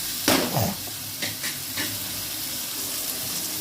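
A soft sizzle of tomatoes sautéing with turmeric and salt in a pan runs throughout, with a few scraping stirs near the start and faint clinks in between.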